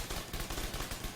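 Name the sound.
assault turret firing in the video game The Division 2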